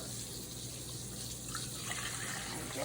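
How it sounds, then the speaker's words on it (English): Milk steadily poured from a container into a mixing bowl for waffle batter, a continuous soft liquid splash heard close up and alone at low level. "I'm pouring 2 cups of milk into the bowl to make my rainbow waffles."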